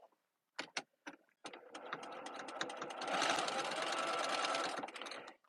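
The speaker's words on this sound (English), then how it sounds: "Okay, so now I'm going to sew this. So I'm going to top stitch the top." A sewing machine with a jeans needle top stitches a vinyl mesh tote bag, starting with a few short separate bursts and then running in one continuous rapid close whir, with no talking.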